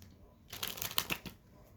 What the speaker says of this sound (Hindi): 2 कार्ड्स और निकालेंगे।